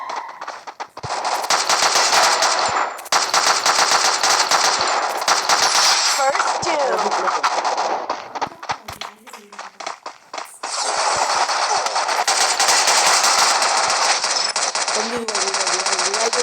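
Rapid automatic gunfire and bursts from a shooting video game fill most of the stretch, loud and dense, with a short lull in the middle before the firing resumes.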